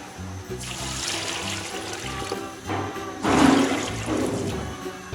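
Water pours from a vessel onto lentils in a pot for shami kabab, a loud, close, splashing gush that eases briefly and then surges again, with no talking.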